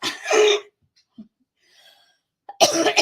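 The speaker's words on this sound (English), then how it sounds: "I'm still coughing and spluttering" A person coughs and splutters up close in two harsh bursts separated by a near-silent pause with faint breaths and small throat sounds.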